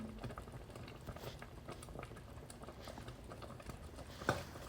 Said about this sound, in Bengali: ঘন হয়ে আসার আগ পর্যন্ত এটাকে আমি জাল দিতে থাকব।